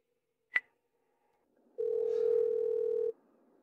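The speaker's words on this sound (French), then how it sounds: "Oser raccrocher mon téléphone" A sharp click, then a steady telephone dial tone lasting over a second after the other party hangs up, alone and fairly loud.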